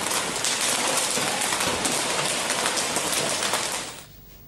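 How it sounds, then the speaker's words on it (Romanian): A hailstorm pounds the Catalan town of La Bisbal in Spain, with egg-sized ice. Dense, loud, continuous drumming hiss fills the air, then fades sharply near the end. "Grindina devastatoare a căzut în această după-amiază în orașul catalan Bisbal și a durat 10 minute."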